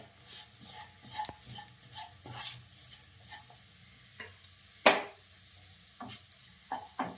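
Spice powders sautéing in a pan over a low flame for eggplant curry give a soft, steady sizzle broken by gentle stirring scrapes and a sharper clink of the spoon midway.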